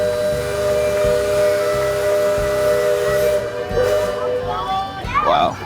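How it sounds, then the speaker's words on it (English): The Liberty Belle steam-powered paddle wheel riverboat sounds its steam whistle, a loud sustained tonal blast over hissing steam, cutting off near the end as a few excited voices rise. "The Liberty Belle is a steam-powered paddle wheel riverboat."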